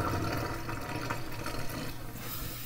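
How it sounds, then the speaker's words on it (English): Cooking water drains steadily off freshly cooked farro, a continuous close rushing splash of water poured through a strainer into a sink, loud and unbroken throughout. "So I'm going to drain the water off it was cooking in."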